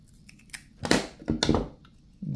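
Scissors make a few quick crisp snips, cutting insulation covering during a steam iron repair, close and fairly clear in an otherwise quiet room.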